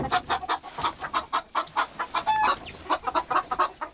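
A small flock of about seven laying hens on a mountain farm in Gombaeryeong clucks in a busy, steady stream of short pulses close by, with one brief higher squawk and no talk.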